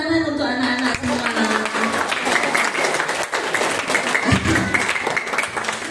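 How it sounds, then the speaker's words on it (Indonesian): Applause for the children at a school parenting seminar, a dense, steady wash of many hands clapping through the whole stretch, with voices talking underneath. "Tepuk tangan untuk anak-anak semua."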